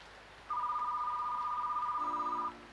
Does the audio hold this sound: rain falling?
no